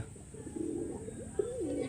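Pigeons in a village loft coo in soft, rolling low calls that rise and fall, close by and continuous through the short stretch.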